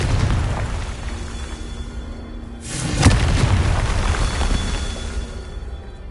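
In the video game Hogwarts Legacy, a Confringo spell explodes with a sudden sharp burst and a rumbling boom over continuous loud combat and ambient game noise.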